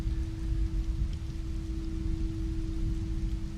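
Steady soft rain falling for relaxation, a constant even hiss of drops without pauses, accompanied by a low sustained hum throughout.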